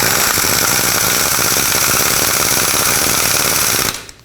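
A power tool rattles steadily and loudly, driving 15 mm ball joint bolts into the front lower suspension of a 2001-2007 Volvo V70, then cuts off near the end.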